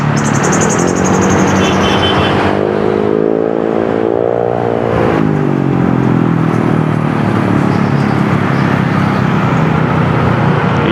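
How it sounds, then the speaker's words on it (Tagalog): Busy road traffic thick with motorcycles, with engines revving and accelerating close by, one rising whine passing midway, over a continuous loud roar of vehicles. "Daming motor."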